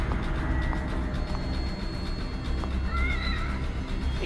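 A cat in the horror video game The Evil Within gives a couple of short meows over a dense, constant ambient game backdrop, heard faintly without any talking.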